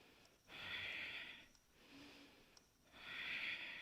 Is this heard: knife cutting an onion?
no